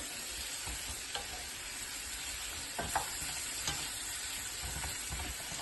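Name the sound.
stirring octopus stew with carrots in a pot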